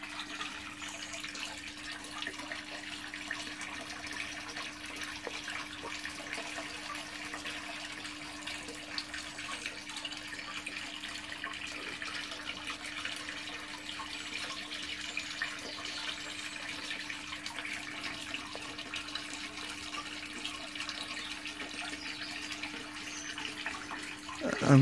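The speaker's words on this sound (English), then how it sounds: "And the filter, yeah, still running perfectly." A fish pond filter runs with water flowing steadily outdoors, a constant moderate rushing and trickling with a low hum underneath, unbroken for around twenty-five seconds.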